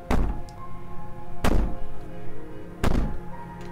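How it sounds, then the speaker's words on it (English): Three heavy, evenly spaced booming thuds ring out as a door is banged on in the video game Slay the Princess, each one loud and reverberant over a low musical drone. "Bang on the door all you want."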